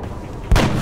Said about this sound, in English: Kelly, put a bullet in his head